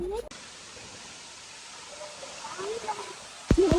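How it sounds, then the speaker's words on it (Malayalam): A waterfall at Vattavada near Munnar pours down with great force onto rocks, giving a steady, broad roar. A voice breaks in briefly at the start and again at the end. "ഇത്രയും ഫോഴ്സിൽ ആ മുകളിൽ നിന്ന് ഇങ്ങനെ വെള്ളം ഇങ്ങനെ ആ പാറയിൽ അടിച്ച് വീഴുന്നതിൻ്റെ ഭയങ്കര സൗണ്ടാണ്"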